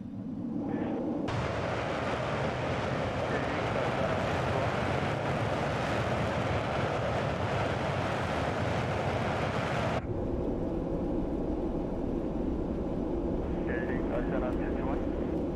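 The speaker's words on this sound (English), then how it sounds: "Activating afterburners." Concorde engines roar at full power with afterburners lit on takeoff in Microsoft Flight Simulator, a loud, dense, continuous jet rumble that surges in and holds for about nine seconds before dropping to a steadier lower drone.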